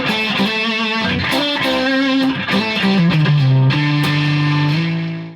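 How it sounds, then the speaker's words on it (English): Squier Sonic Strat guitar driven through a Rat distortion pedal, giving a thick, gritty, sustained tone as a riff of held notes and slides plays loud and continuous before cutting off. "We try a rat distortion."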